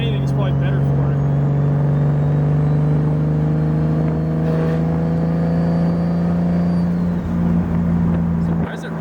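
BMW E36 with a turbocharged M52 inline-six, a brand-new motor, idling close by: a loud, steady, even hum that holds through the whole stretch, with a slight change in pitch near the end and people talking over it.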